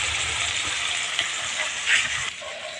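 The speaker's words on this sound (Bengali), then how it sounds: "আর এই যে মাছ ভাজা চলছে।" Fish frying in a pan during home cooking for a festive meal, giving a steady close sizzle and hiss with a few louder crackles, no talking.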